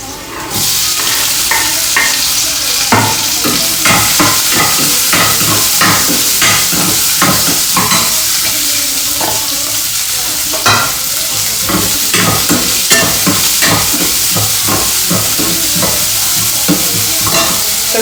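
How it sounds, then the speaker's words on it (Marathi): Onion frying in a pan after mustard seeds and garlic, with a loud, constant sizzle and a steady rhythm of spatula scrapes and taps while being stirred throughout. "तर कांदा मस्त लाल फ्राय होऊ द्यायचा"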